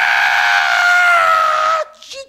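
A human voice imitates a pig squealing at slaughter, producing one long, loud, sustained shriek close by that cuts off sharply, followed by a faint brief trailing sound.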